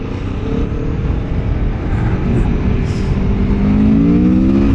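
A 2024 Aprilia Tuono V4 Factory motorcycle with 217 horsepower accelerates hard, its engine note climbing steadily in pitch with a loud, continuous roar and strong rush of wind.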